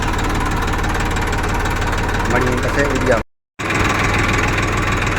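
A Massey Ferguson 241 tractor engine chugs steadily at idle with a rough, knocking rhythm, cutting out briefly for a moment before resuming just as loud.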